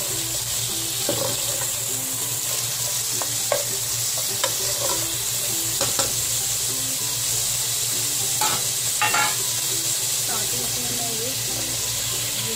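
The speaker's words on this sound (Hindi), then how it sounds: "प्याज डाल देंगे, फ्राई कर देंगे।" Onions and vegetables stir-frying over high heat for a Chinese-style fish sizzler, a steady loud sizzle with intermittent scraping and stirring clatter from the pan.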